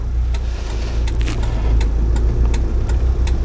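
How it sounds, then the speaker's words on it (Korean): Driving-test car for a Korean class 1 licence pulling away: a steady low engine rumble with faint clicks and rustles over it, close and continuous, with no talk. "자, 이제 기어를 넣고 이제 브레이크 떼고"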